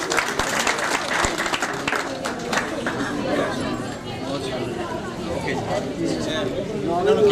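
A crowd at a Hindu community's Diwali celebration in Lahore claps steadily and loudly throughout, with lively chatter and voices mixed in.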